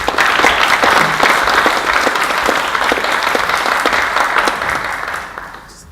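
Audience at an asset enhancement symposium applauds steadily to welcome a speaker to the lectern, a dense, even patter of many hands close by that fades out at the end.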